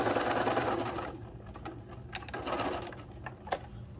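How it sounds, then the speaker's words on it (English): A sewing machine stitches along the lines of a paper-pieced star quilt block in a steady, fast mechanical whir, pausing briefly before restarting with a few short bursts close by. "And then just sew on those lines"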